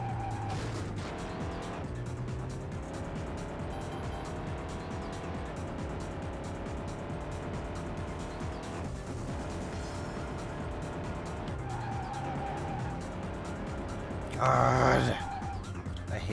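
A car in the Dreamcast racing game Vanishing Point drones on with engine and road noise throughout, tyres squealing in short bursts and a brief louder skid near the end; a voice talks intermittently over the game.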